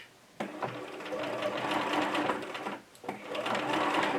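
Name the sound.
sewing machine stitching fabric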